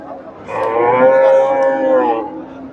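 A Friesian bull at a cattle market lets out one loud, sustained moo close by, rising and holding for more than a second before trailing off over faint crowd murmur.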